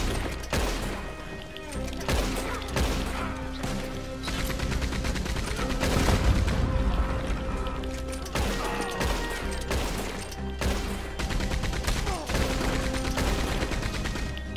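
Gunfire in the Red Dead Redemption video game, a dense, sustained fusillade of rapid shots and bursts mixed with booms and crashes, loud and continuous throughout, with brief talk over it.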